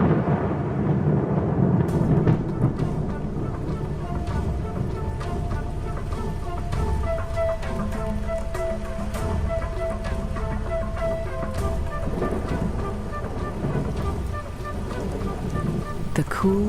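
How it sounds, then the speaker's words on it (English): Heavy rain pours down steadily on an open African plain with deep thunder rumbling beneath, a dense, continuous downpour that stays loud throughout, with occasional sharper splashes near the end. "the promised rain arrives at last"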